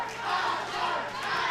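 A wrestling crowd roars in support of Asgard King, a dense, steady wash of cheering and shouting from many voices, moderately loud and sustained without a break.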